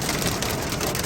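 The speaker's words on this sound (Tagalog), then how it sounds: "Ayan, nag-hail." Hail pelts pavement during a Colorado thunderstorm, a dense, loud, unbroken patter of countless small impacts that fills the whole moment with no voices.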